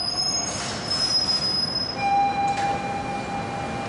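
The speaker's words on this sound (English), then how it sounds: "Patricia Massari catches the M train to downtown Manhattan" A New York subway M train on its way toward downtown Manhattan lets out high, sustained wheel squeals that rise and shift pitch over a steady rail rumble, loud and close, with no voices.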